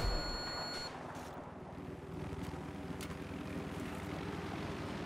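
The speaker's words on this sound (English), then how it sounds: "Enemy helicopter coming in," In Battlefield 3, an enemy helicopter approaches as a steady, faint rotor and engine drone under wind-like noise, with no voices over it.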